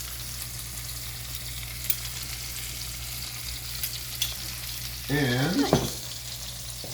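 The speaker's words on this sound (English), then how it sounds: "we're going to let this saute just a little bit" Mushrooms and sauce sauté in a pan for pork Marsala, a steady low sizzle underneath, then a brief louder burst of frying and stirring near the end, with a voice briefly speaking.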